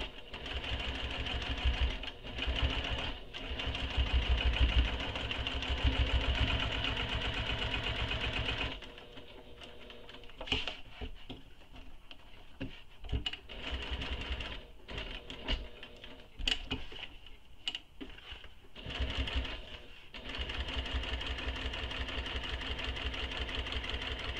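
Sewing machine stitching rows on a backpack, a steady mechanical whirr running for long stretches, broken by stops and clicks midway before stitching resumes, close and fairly quiet.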